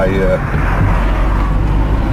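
A small 1000 cc car drives along with a steady, loud engine hum and road rumble filling the cabin throughout.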